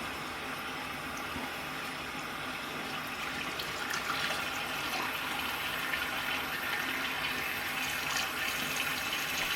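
Tap water running steadily to rinse off a skin care product, a continuous close hiss of flowing water with no talking.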